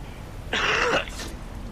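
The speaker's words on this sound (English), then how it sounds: "Sorry about the cough" A single short, harsh cough, close and fairly loud, in an otherwise quiet room.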